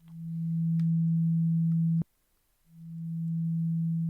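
A steady low synth tone swells in, cuts off sharply with a click, then fades back in smoothly and holds.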